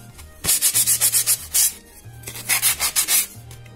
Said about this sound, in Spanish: le vamos a pasar suavemente una lija a cada uno de los posavasos y a la base